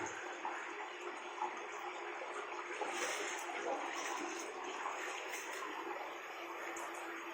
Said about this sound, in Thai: น้ำไหลลงใต้พื้นลงไปตรงนี้นะครับ